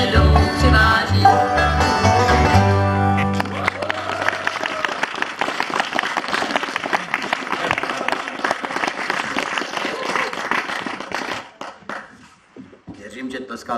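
Audience applause breaks out as a song's final notes fade, a dense wash of many hands clapping at a live wellness event performance, holding steady before thinning out near the end.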